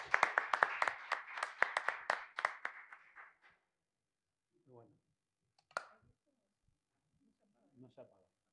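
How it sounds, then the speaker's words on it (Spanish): Brief, close applause from a small group at the end of an academic talk on the concept of people in Kusch and Scannone, fading within a few seconds, with faint voices afterward. "Los despedimos con un aplauso."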